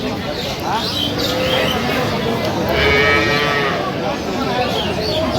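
Cows and calves bellow at Aftabganj cattle market in Dinajpur, with one clear, drawn-out moo near the middle rising over a constant crowd din and nearby voices talking.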